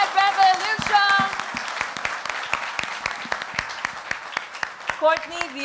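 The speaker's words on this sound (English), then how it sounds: "can we have one final round of applause for the Vespa Red and the Red Revolution?" Audience applause at the Piaggio Vespa Red launch event, a steady wash of many hands clapping for several seconds, with a host's voice heard over it at the start and end.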